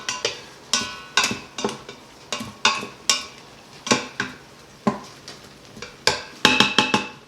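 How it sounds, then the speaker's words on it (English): Onions sautéing in an Instant Pot, heard as a series of sharp clinks and scrapes from a utensil stirring against the pot in an uneven rhythm, close and fairly loud, with no talking. "I'm just gonna saute these for, I don't know, 5 minutes, just till the onions get soft and translucent"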